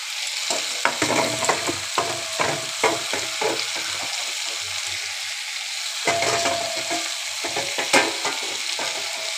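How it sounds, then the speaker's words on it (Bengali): Bottle gourd and potatoes sizzle in a pan while a spoon stirs them, giving scraping, clattering strokes in uneven bursts over a constant close hiss, with a short lull in the middle and no talking. "এবার লাউগুলোকে আলুর সাথে ভালো করে কষিয়ে নেব।"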